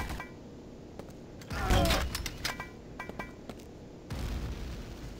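Grenades exploding in Quake 2, a few muffled booms and clanks scattered among other game sounds, fairly faint, with one heavier blast standing out early and a lower rumble near the end.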